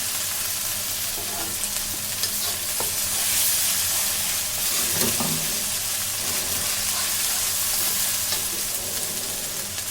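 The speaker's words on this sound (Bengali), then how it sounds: "পেঁয়াজ ভাজা হয়ে গিয়েছে" Onion paste fries in oil in a pan, sizzling and crackling steadily, with occasional stirring scrapes and clinks, close and continuous.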